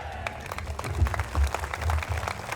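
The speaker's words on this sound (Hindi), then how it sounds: "जोरदार ताली बजा करके उनका स्वागत करेंगे" A crowd at a political rally in Chhattisgarh claps to welcome Assam chief minister Himanta Biswa Sarma, a short burst of dense, uneven applause with no voices.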